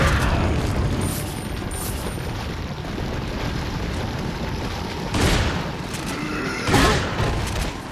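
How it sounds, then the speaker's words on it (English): Grenade explosions in the video game Resident Evil 4: two heavy booms land a second or so apart late in the clip, over a constant rumbling bed of game noise. "Time to grenade it up."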